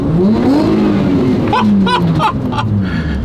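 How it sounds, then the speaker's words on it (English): A fourth-generation Nissan Maxima engine revs up and falls back, its pitch rising and dipping in a smooth sweep, loud and close, with a few short clicks near the end. "it revs so nicely. Listen to this."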